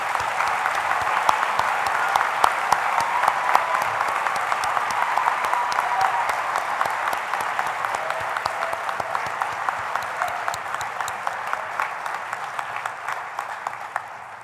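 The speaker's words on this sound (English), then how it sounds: "Let's have a round of applause for our graduates." Steady, dense applause from a community college graduation audience for the graduates, many hands clapping continuously at moderate loudness and slowly tapering near the end.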